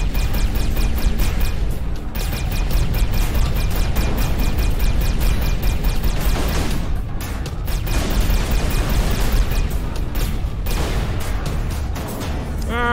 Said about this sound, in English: That wasn't a good explosion.